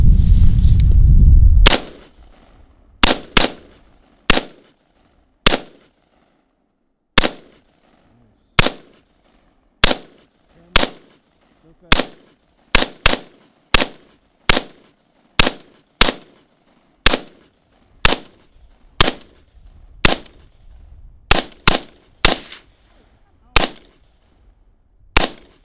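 SIG 556 and SIG 516 rifles fire outdoors in over twenty sharp, loud single shots spaced irregularly, sometimes in quick pairs or bursts, with brief rumble and quiet gaps between them.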